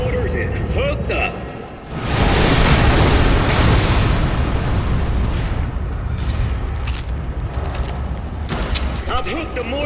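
Heavy booming mortar explosions in the co-op video game Dead Island 2, a big blast at about two seconds followed by sustained rumbling and debris under mixed game noise.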